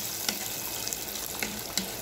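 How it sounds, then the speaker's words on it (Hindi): Water is poured in a thin stream into a simmering meat masala of green chilli roasted mutton cooking over low heat, a soft continuous splashing hiss with a few small clinks, close by and steady. "ये देखिए मैंने थोड़ा सा पानी डाला है इसमें"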